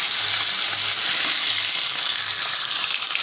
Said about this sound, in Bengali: এখন মাছ ভাজা বসিয়ে দিয়ে